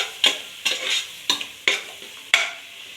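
Chilli powder and salt frying in oil in a pan for veg biryani, stirred by hand: five rhythmic scraping strokes over a steady close sizzle, with no voices.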